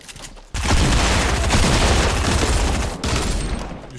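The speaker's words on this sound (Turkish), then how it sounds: "Adam 4 tane roket attı burada bana." Rockets launched and exploding in Fortnite, a loud roaring blast that swells suddenly and rumbles on for a few seconds, followed by a second hard impact near the end.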